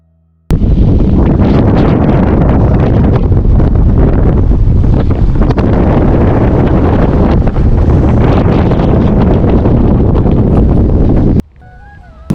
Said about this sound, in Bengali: এখানে প্রচুর বাতাস